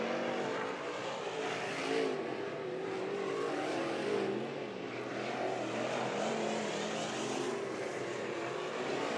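Race cars in heat races at the Stockton Dirt Track drone continuously, a dense, steady engine roar heard from a distance with slight swells as cars pass, and no talk over it.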